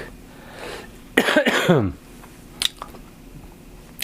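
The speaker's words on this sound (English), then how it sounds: "Cough's gonna undo me." A single harsh cough bursts out close by amid quiet background, followed by a few faint clicks.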